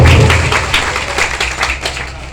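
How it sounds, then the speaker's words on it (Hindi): An audience at a Biraha folk performance event in Ghazipur gives the children a burst of clapping that starts loud and fades over a couple of seconds. "एक बार बच्चों के लिए जोरदार ताली से सम्मान आपको।"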